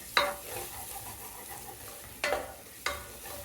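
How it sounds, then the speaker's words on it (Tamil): Ginger garlic paste frying in a pan for veg biryani is stirred: a steady close sizzle with three sharp scraping strokes of the spoon against the pan. "இஞ்சி பூண்டு பேஸ்ட் போட்டதுனால கீழே பிடிக்கும், அதனால் கொஞ்சம் கிண்டிகிட்டே இருக்கலாம்."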